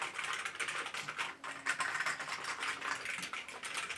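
Rapid typing on an Amiga 500 computer keyboard during a keyboard test, a dense run of quick clattering key presses, close and fairly quiet, with no talk.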